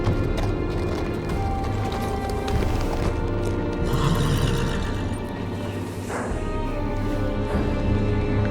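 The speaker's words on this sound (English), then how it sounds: "On a horse, no less." Horse sounds in the Telltale Game of Thrones video game at the gate of the Wall: hooves clip-clop steadily with a whinny partway through, set against a busy background of mechanisms and ambient noise.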